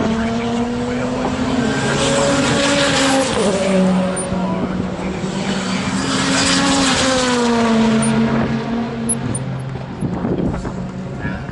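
Race cars, including an Evo, bang and roar around the track at a time attack event at Tunerfest 2025, loud engine drones rising and falling as cars pass with sharp exhaust pops, and voices chatter beneath.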